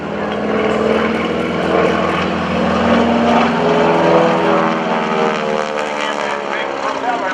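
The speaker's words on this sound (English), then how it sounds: "Big propeller fighting into the sky at supersonic speed" Pratt & Whitney-powered propeller aircraft at a naval air station airshow, a steady loud engine drone with shifting propeller harmonics rolling on throughout, with no voices over it.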